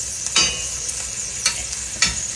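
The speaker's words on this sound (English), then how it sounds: "Our sausage is frying good over here." Steady sizzling and crackling of Conecuh sausage frying in a pan, with occasional scraping as it is stirred.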